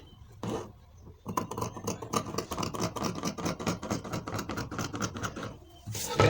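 Scissors cut through fabric for a gown in a quick run of rhythmic snips, faint and close, with short pauses at the start and end.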